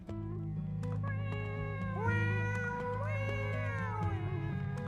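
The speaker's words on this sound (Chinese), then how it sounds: "这个猫叫啊，好可爱。" A cat meows repeatedly at close range with drawn-out, rising and falling calls, steady and clear over a faint background, at a Hakka music awards event.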